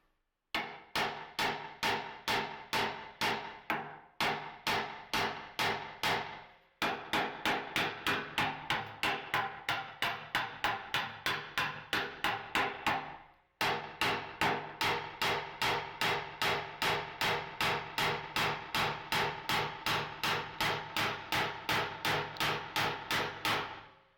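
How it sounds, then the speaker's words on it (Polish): Long runs of sharp, ringing hammer taps on water pipe fittings in an old tenement apartment, fast and evenly spaced, pausing briefly a few times before resuming. "też je spróbuję tak pobić młotkiem"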